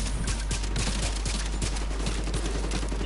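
Rapid gunfire from The Division 2 video game, a dense, loud stream of overlapping shots and bursts with no break across the whole stretch.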